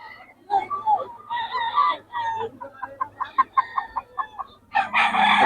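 Chickens cluck and a rooster crows at a poultry market in Bocaue, loud and close, with a burst of crowing near the end and faint voices in the background.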